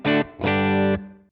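An electric guitar with an overdriven crunch tone runs through a Sonicake Matribox 2 Pro effects unit, giving two loud distorted chords: a short stab followed by a longer held chord that rings briefly before stopping.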